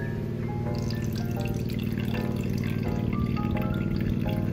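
Water dripping and trickling from a soaked flake of fluffy horse-bedding wood shavings, a steady close patter with no talking.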